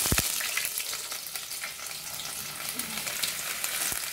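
Onion sizzling in a frying pan for chilito de siruela, a close, steady crackling hiss with a few sharp clinks of a utensil at the start and end.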